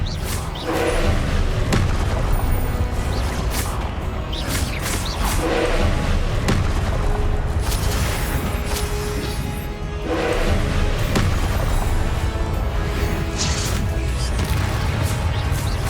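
Confringo explosive spell blasts in the Hogwarts Legacy video game, heard as dense, continuous booms and thuds layered with crashes and battle noise, loud throughout with no clear breaks.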